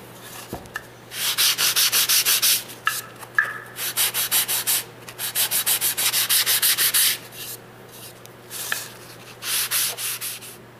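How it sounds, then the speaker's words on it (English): Hand sanding a wooden box with 220-grit sandpaper: repeated bursts of quick back-and-forth scratchy strokes, close and fairly loud, separated by brief pauses, over a steady low hum. "If you want to hand sand anything with the 220 or higher grit to do any touch-ups, now is the time to do it."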